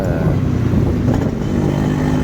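A restored Yamaha RX100 motorcycle engine runs steadily up close, a loud continuous low throb with a busy two-stroke rattle, holding an even level throughout with no voices.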